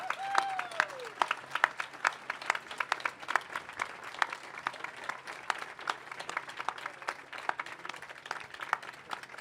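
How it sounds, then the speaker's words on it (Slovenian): Audience applause at the Pohod za življenje march in Ljubljana, a steady wash of many hands clapping with sharp individual claps standing out, moderately distant, with a brief whistle-like tone near the start. "Zaploskajmo še enkrat za vse bake in babice in vse tiste, ki so svojo odločnostjo rešile življenja."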